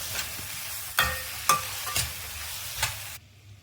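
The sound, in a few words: stirring boiled chickpeas with salt and chili in a pan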